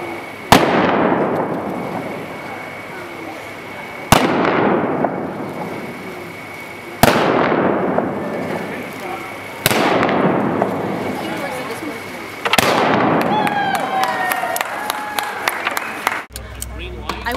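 Gunshots fired during cowboy mounted shooting on horseback, five sharp loud reports spaced a few seconds apart, each ringing out and decaying, with a clatter of smaller pops near the end.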